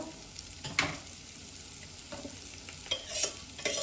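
Ponnaganti greens fry in a pan with a soft, steady sizzle, broken by irregular scraping stirs and clinks of a spatula, close up and with no talking.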